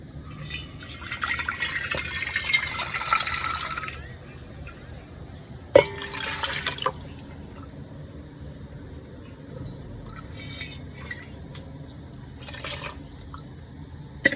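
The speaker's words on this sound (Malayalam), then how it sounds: "അത് ഞാനൊന്ന് നല്ലപോലെ കലക്കി ഇതിലേക്ക് ഒഴിക്കുകയാണ്." Homemade arrowroot starch water stirred and poured into a vessel, bursts of splashing and trickling liquid, a longer pour at the start and shorter splashes later, close by, with a few knocks between.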